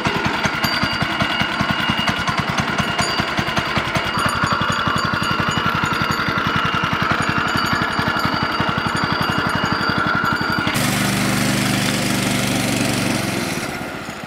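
A brand-new Predator 212 go-kart engine, still breaking in and with its governor removed, idles and warms up in a loud, close, rapid steady putter that shifts to a deeper, smoother tone near the end.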